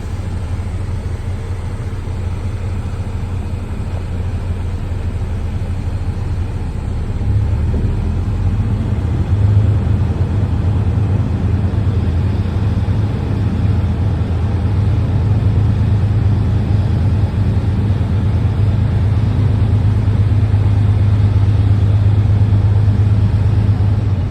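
A truck with a 10-speed Eaton Fuller manual transmission rumbles steadily at low speed while backing up, its engine a loud, constant low drone that swells slightly partway through.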